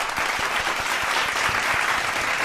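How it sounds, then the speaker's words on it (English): A crowd claps in a dense, steady round of applause that is loud and continuous throughout, with no voices over it. "Everyone give Marie a round of applause."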